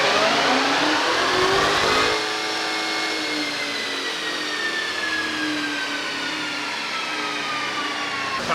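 A 2021 Dodge Charger Redeye on a chassis dyno, its engine roaring loud and steady as revs climb through a full-throttle pull, the pitch rising smoothly before the throttle eases after about two seconds into a sustained high drone.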